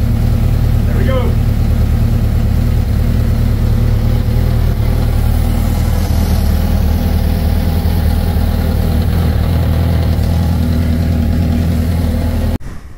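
A choked small engine running steadily after a cold start, a loud, continuous close-up idle with a rough low rumble that holds through the clip and cuts off near the end.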